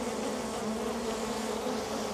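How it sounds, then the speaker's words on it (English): A dense, steady buzzing of many honeybees close by at an open hive, continuous and even throughout with no voices. "the bees aren't overly pleased with me going in there"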